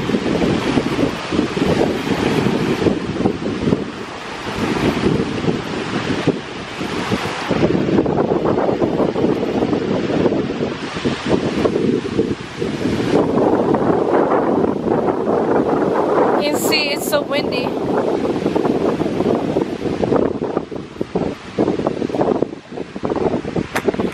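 Strong gusty wind roars against the microphone, rising and falling in heavy bursts, with waves faintly beneath and a voice briefly audible.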